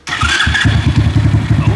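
An engine fitted with a homemade muffler starts abruptly and settles into a loud, close, steadily pulsing idle.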